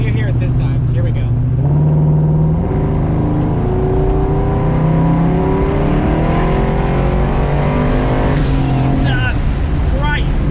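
A twin-turbo Coyote-engined 2003 Cobra with a 6R80 transmission revs up hard and loud, pitch climbing through the gears with a brief dip at a shift, then rising again; fluttering turbo whooshes near the end.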